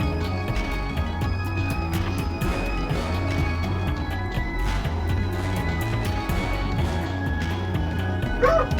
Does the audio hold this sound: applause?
no